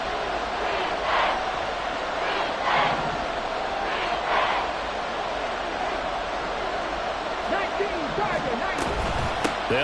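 Stadium crowd in the Madden American football video game roars in a continuous wash of cheering, with rhythmic swells of chanting rising and falling throughout.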